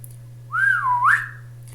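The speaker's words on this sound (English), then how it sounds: "We then hear a whistle from the background," A single clear whistle, rising, dipping and rising again over about a second, carries from the background of a scene in the horror series Ash vs Evil Dead against a low steady hum.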